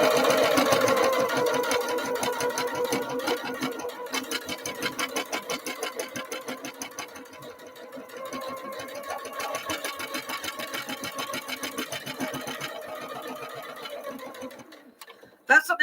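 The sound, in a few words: sewing machine stitching a table mat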